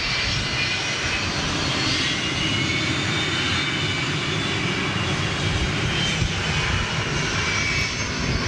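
Boeing 757 powered by Rolls-Royce RB211 jet engines, its loud, steady roar filling the whole stretch with an even, unbroken wash of engine noise and no voices.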